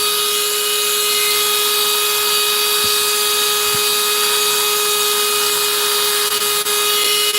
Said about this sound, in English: Just a matter of getting the drill through it.